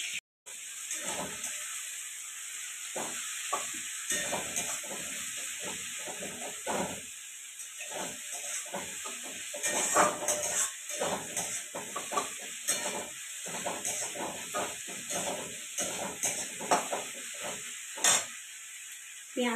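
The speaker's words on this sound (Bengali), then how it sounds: "পেঁয়াজ ভাজা হচ্ছে এখন" Onions frying in a pan in a home kitchen give off a steady, close sizzling hiss, broken by frequent soft scraping and stirring knocks throughout.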